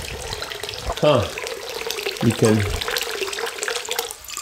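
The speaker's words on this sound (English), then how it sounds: "That's the well right there. That's some really good water." Water running steadily from a well at a Japanese temple in a forest, a constant splashing flow close by, with a man's short spoken remarks over it.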